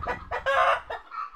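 A chicken clucks in a few short, close bursts, one louder burst rising toward a crow, with faint background noise between calls.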